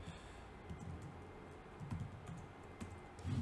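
Typing a terminal command on a computer keyboard while setting up Dokku on AWS, a steady run of soft close key clacks with a few louder thumps at the end, alone without speech.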